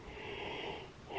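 One close, breathy yawn swells and fades, a soft airy exhalation with a faint wheezy edge, heard alone.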